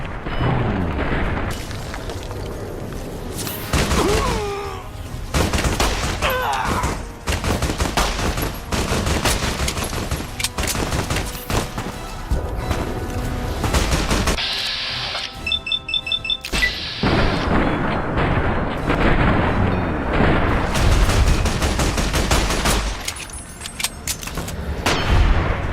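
Gunfire and explosions in Fallout: New Vegas with the Viva New Vegas mod, booming blasts and crackling volleys that repeat almost without pause, loud and chaotic, broken by a brief lull partway through.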